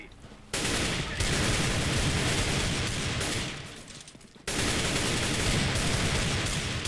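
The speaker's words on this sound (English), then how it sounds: "Stop shooting me." Dense, continuous gunfire from the CS:GO match on Dust II roars close and loud, with a brief dip near the middle before another burst resumes at full intensity.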